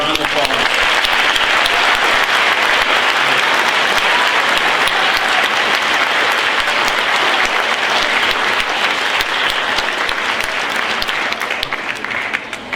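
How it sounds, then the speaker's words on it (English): A large audience at a junior high school awards night gives a round of applause for the school staff, sustained dense clapping at close range that stays loud throughout and tapers off in the final second. "I'd like to hear a round of applause"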